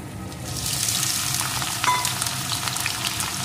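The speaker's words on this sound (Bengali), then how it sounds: "পেঁপেগুলোকে একটু ভেজে নেব" Papaya pieces frying in a pan with potato, a steady close sizzle with faint stirring scrapes running the whole time and no voices.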